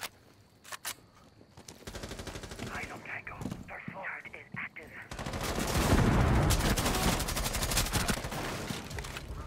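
Automatic gunfire rattles in Rainbow Six, starting with sparse shots and then swelling into a long, loud, dense burst of rapid fire and impacts that fills the second half of the clip.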